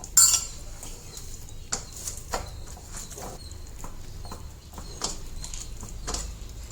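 A lid is set over a bowl of soaking dough for bili holige, mixed with a spoon of oil, producing several light clinks and taps of kitchenware at close range in a quiet room.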